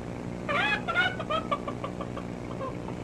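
A voice imitates the deep call of geese, but the repeated throaty bursts come out sounding like a clucking chicken, close and fairly loud over a steady background hiss from an old 1938 film.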